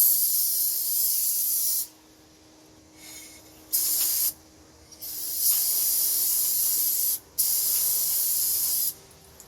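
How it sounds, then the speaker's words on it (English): An aerosol can of brake cleaner hisses in several long, loud spray bursts separated by short pauses, close by and with no talking, during a brake rotor and pad replacement on a 2001-2005 Ford Explorer. "we'll go ahead and spray a little bit more brake cleaner."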